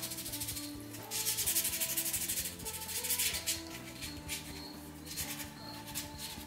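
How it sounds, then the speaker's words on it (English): A broom handle being wet sanded with 400 grit sandpaper, giving a continuous close scratchy rubbing with rhythmic back-and-forth strokes over a faint background hum. "And then immediately went into the 400 grit wet sanding as well."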